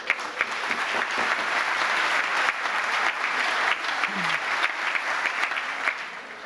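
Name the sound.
applause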